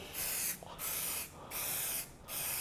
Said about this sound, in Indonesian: Kita kocok dulu, Bro ya kan kita kocok dulu kita semprotkan langsung